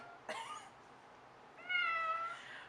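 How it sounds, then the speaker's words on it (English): A Munchkin cat gives two short, close meows indoors, a brief chirpy one followed by a longer, rising-and-falling cry, against a quiet room. "He's been a little playful today, a little Munchkin playful cat."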